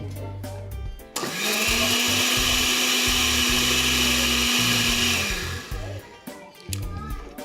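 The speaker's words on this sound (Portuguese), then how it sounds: "uma batidinha rápida" A blender whirs steadily for about four seconds, mixing pancake batter with banana, loud and close, with a person talking briefly before and after.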